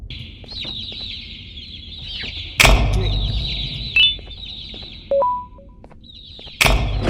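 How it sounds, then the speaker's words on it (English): Chickens cluck and squawk in a nest in the game Garten of Banban 2, high repeated calls broken by a few sharp thumps, with a voice speaking briefly. "Oh, I got birds in the nest."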